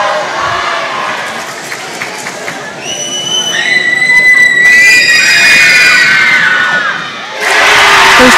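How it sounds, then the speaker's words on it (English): Fans at a high school basketball game, White River Tigers versus Pine Ridge Thorpes, scream loudly after a made free throw. The shrill, rising cheers swell over a steady crowd din, fade briefly, then surge again at the end. "I'm not sure if you guys could hear that screaming through my headset, but I did."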